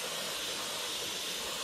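Electrical cleaner spraying from an aerosol can onto an oily engine part near an oil level sensor, a steady close hiss that runs without a break.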